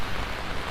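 Steady rain falls on a Midtown Manhattan street during a Sunday night rainstorm, a dense, even hiss of drops spread wide and close all through, with no voices.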